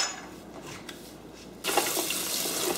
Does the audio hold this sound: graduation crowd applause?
no